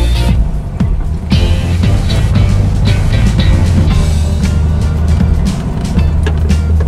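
An old VW with a Solex 34 PICT-3 carburetor, a car that had sat for almost two years, drives around the block. Its engine rumbles loudly from close by, with rattles and road clatter and no talk.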